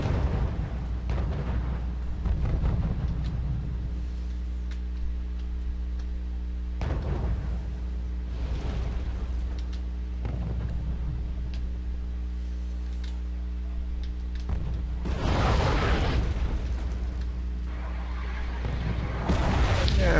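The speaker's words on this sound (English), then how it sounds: "And some artillery shots come in." Booming artillery shells land in the real-time strategy game Wargame, heavy bursts arriving in several separate clusters over a steady low rumble, with the loudest impact near the end.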